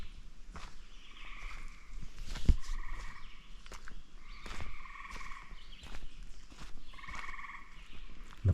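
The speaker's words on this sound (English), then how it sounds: "There's loads of frogs down there, so I think they must eat those." Frogs croaking in a bog near a woodland cabin trail, rhythmic bursts of croaks repeating in clusters at moderate distance, with occasional footstep thuds and no talk.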